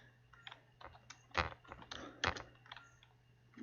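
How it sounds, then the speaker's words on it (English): Quiet, close typing on a computer keyboard: an uneven run of light clicks with a couple of sharper keystrokes, over a faint steady hum. No speech. "So you can type in"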